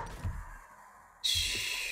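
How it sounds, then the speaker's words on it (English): Bird call in the survival video game 7 Days To Die, a sudden bright chirping tone that cuts in loudly and holds steady, rising sharply over a quieter game background. "Oh! Bird."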